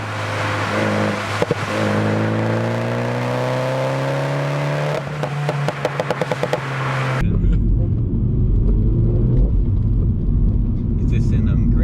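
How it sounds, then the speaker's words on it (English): A Mini John Cooper Works, front-wheel drive, accelerates on rain-soaked roads, its engine rising through gears with a few sharp pops, then cabin rumble and road noise take over as people talk. "it's a nippy little car. Do you know what I mean? It picks up quick. It pulls and then it pulls harder."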